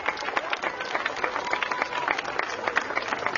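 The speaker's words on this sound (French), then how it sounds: "Vous pouvez applaudir très très fort le petit théâtre à Françoise." Festival audience at the Fête des quartiers du Nord applauding a small theatre troupe, many hands clapping in a bright, steady patter that carries on without a break, moderately distant.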